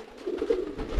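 A pigeon coos close by, one soft, low, rounded call lasting about a second, with no voices over it.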